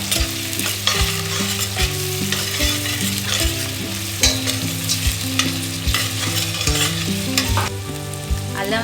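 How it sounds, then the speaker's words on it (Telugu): Two spoons of ginger garlic paste sizzle and crackle in a pan for a spicy chicken curry while being stirred, the steady frying noise running under rhythmic background music. "నెక్స్ట్ అల్లం వెల్లుల్లి పేస్ట్ వేసుకున్నాం 2 స్పూన్స్. ఫ్రై చేసుకున్నాం."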